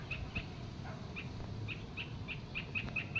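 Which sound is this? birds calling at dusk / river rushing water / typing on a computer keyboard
birds calling at dusk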